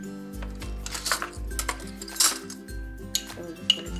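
Homemade scrub of apple cider vinegar, honey and sugar stirred in a bowl, with soft scraping and light spoon clinks against the bowl in an irregular rhythm, close and fairly quiet.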